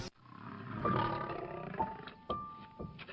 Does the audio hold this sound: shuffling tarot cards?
no